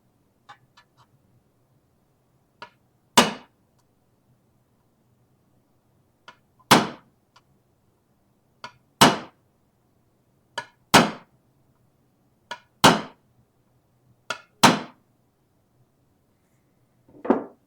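Sharp metal hammer blows ring out while shaping the trim of Mandalorian shoulder armor, about seven strong strikes spaced irregularly a second or two apart, with fainter taps between them in a quiet room.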